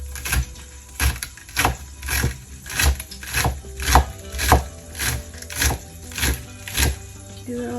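A knife chopping onions into rings for garnish on a cutting board while preparing Afghan Kabuli palaw, about a dozen evenly spaced, fairly loud cuts over steady background hum.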